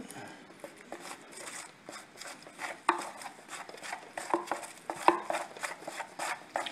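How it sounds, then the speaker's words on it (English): Drywall joint compound mixed in a pan for patching a door knob hole, heard as a steady run of wet scraping and tapping strokes from a close knife, irregular and busy throughout. "Just mix it in your pan like that."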